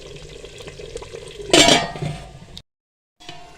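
A lid goes onto a pot of palak gosht simmering on low heat with a short metallic clatter and scrape that rises above faint kitchen stirring noise. A brief silence follows.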